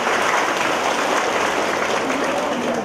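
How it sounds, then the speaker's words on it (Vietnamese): Steady crowd applause from a church congregation fills the space, dense and unbroken, with a few voices mixed in. "Rồi cho một tràng pháo tay thưa anh chị em."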